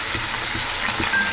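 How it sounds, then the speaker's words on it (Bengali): Fish deep-frying in plenty of oil, a dense, steady sizzle and crackle with a few soft bumps, close and continuous with no voices. "একটু বেশি ডুবো তেলে মাছটাকে ভালো করে ভেজে নেব।"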